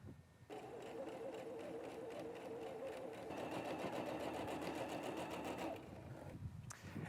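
A sewing machine runs steadily for about seven seconds, stitching quilt pieces together with a fast, even mechanical whir and a rapid needle rhythm, loud and close with no talk.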